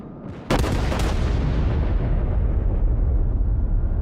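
Heavy naval gunfire from enemy warships in World of Warships: a sudden loud booming blast followed by a long rumbling roar that fades slowly, with a fainter shot just before it.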